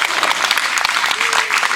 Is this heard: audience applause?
yes